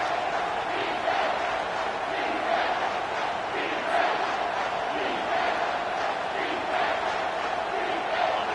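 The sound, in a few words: stadium crowd cheering in NCAA 24 football video game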